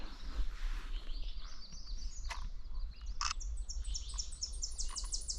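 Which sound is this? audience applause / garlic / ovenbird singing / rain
ovenbird singing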